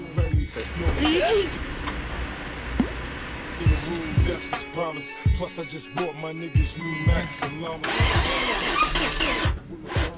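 A used car bought at a US auction, suspected of engine knocking, starts after oil is topped up: the engine cranks, catches and runs with uneven revs and bursts, while people talk over it nearby.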